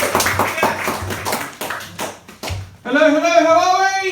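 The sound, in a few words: audience clapping for comedian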